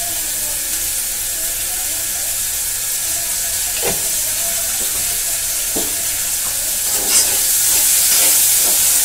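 Onions fry in oil in a pan with a steady broadband sizzle, punctuated by a few sharp clinks and scrapes of stirring near the end.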